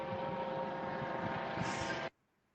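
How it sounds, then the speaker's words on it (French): A helicopter passes overhead near a wetland with flamingos, its loud steady rotor and engine roar filling the air without a break, then cutting off abruptly to near silence. "On avait l'hélicoptère qui faisait pas mal de bruit"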